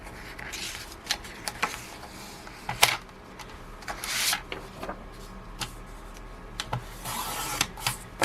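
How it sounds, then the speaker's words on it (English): A paper page being cut off during a card-making craft setup makes short rasping slices and scratchy rubbing strokes in irregular bursts, close and fairly quiet. "Let's cut this page off at the right spot."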